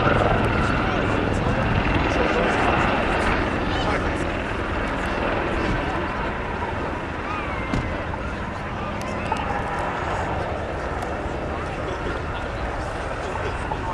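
Royal Navy AgustaWestland Wildcat HMA.2 helicopter performing at an air show flying display, a steady continuous rotor and engine roar that holds loud and even throughout, mixed with crowd ambience.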